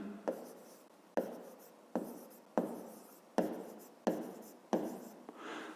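A pen writes by hand on paper while working a fifth-grade maths exercise, producing seven short scratchy strokes at a steady, even rhythm, each starting with a crisp scrape. The sound is quiet and close up, with no talking.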